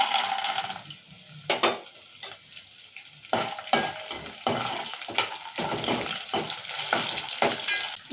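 Peanuts and green chillies fry in oil for tomato pulihora, crackling and sizzling close up, broken by repeated bursts of stirring and scraping in the pan.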